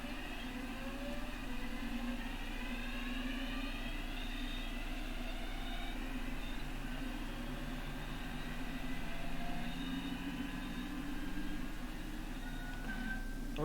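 Train pulling away from Chester Road station on the Birmingham Cross City line in Train Sim World 3, a steady electric motor hum with rising whine tones, continuous and close, no talk.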